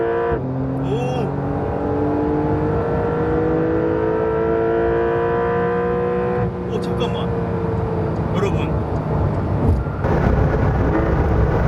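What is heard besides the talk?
sports car engine accelerating in sport mode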